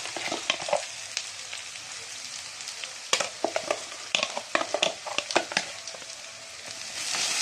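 Ginger, garlic, onion and tomato paste frying in a pan for chicken curry, a steady close sizzle broken by repeated scraping stir strokes, busier in the second half.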